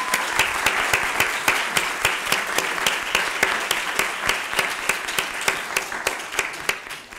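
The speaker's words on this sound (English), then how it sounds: "a huge round of applause" A conference audience applauding at the closing session, a sustained, dense round of clapping with sharp individual claps cutting through, steady and fairly loud throughout with no talk.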